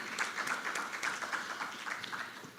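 An audience at a conference applauds a guest being introduced: steady, fairly faint clapping from a seated crowd, continuous for a few seconds without speech over it.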